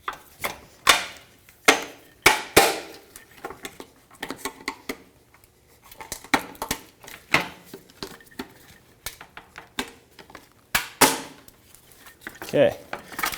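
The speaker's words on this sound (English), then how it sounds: "For these, it's easier if I just hammer them." Sharp hammer strikes knocking out one-time-use plastic trim clips on a 1998-2011 Ford Ranger during fog light removal, a dozen or so close, loud irregular taps with short pauses between them.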